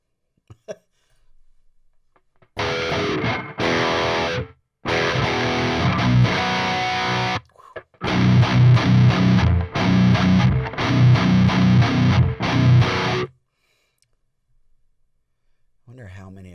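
Electric guitar played through a Soldano SLO-100 amp plugin on its lead channel, loud distorted bursts of riffing and chords separated by short silences, alone without talk.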